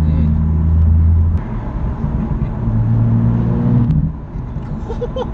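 A BMW M2 engine gives a deep, loud low rumble close by, swelling in revs and then easing back, with faint voices briefly underneath.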